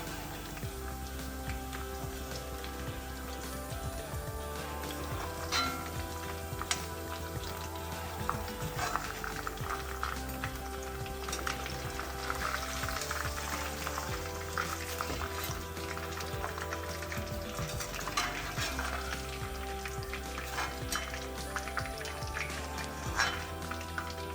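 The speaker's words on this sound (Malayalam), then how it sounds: "ഇത് മുഴുവനായി പൊരിച്ചെടുത്തു." Chicken pieces fry steadily in hot oil in a pan, a continuous dense sizzle and crackle with soft stirring and scraping, close and even throughout, with no talking.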